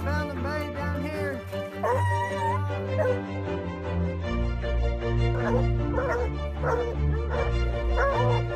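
Several hounds bay and bark excitedly nearby, long drawn-out howls overlapping with rhythmic barking in a continuous chorus.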